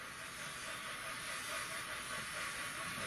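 A steam train running on a heritage railway, a steady broad hiss with rumbling underneath, constant and moderately distant, without speech.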